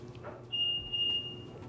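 Two sharp, loud electronic beeps sound back to back as a BMW X3 locks, each a piercing high tone over a low background hum, with no speech.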